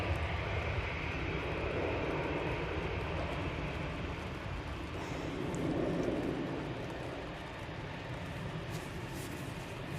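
A Ryanair Boeing 737 MAX 8 jet departing Manchester Airport gives a steady, broad engine roar that swells slightly around the middle and then eases, heard alone without talk.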